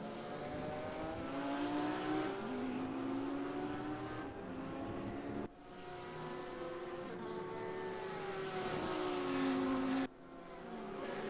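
ADAC GT Masters race cars, Porsches and an Audi, run at Autodrom Most with a steady high engine whine that rises and falls as the cars pass and shift gear, at a moderate distance.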